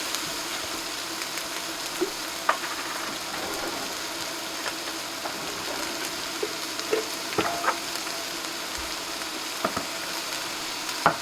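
Sliced peeled carrot frying alongside browning onions in a pan gives a steady, close, even sizzle, dotted with occasional soft clicks and taps of stirring, with no talking.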